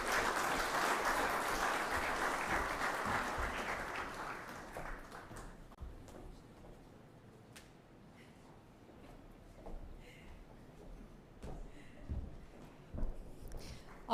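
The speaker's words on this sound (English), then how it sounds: "let's get one more round of applause for Dr. Barnett" Applause from the audience at the opening ceremony of the 55th CBU Annual General Assembly, a broad wash of clapping that is fairly steady for about five seconds, then fades to a quieter room with scattered sounds.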